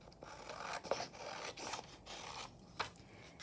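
Paper is trimmed from a handmade journal page in quiet, close rasping and rubbing strokes, a few soft scrapes and snips spaced irregularly over a faint background.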